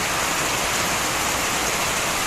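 Heavy rain pours down in a dense, steady, loud roar with no pauses and no voices.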